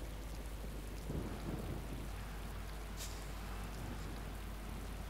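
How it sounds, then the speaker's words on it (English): Rain and thunder in a bus driving video game: steady hiss of rainfall throughout with low rumbling thunder swelling around the middle, a brief bright crack near the end, no voices. "And thunder."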